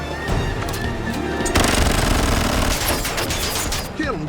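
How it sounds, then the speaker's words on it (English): Machine-gun fire during a car chase, delivered as dense, rapid bursts that start sharply and continue in loud rattling volleys with brief gaps, with voices underneath. "Oh my god, is he shooting at us?"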